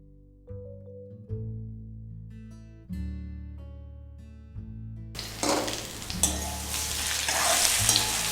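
Nendran banana pieces and cloves hit a hot pan for Kerala-style payasam and burst into loud, crackling sizzling about halfway through. The frying then keeps going, close and steady, after calm background music at the start.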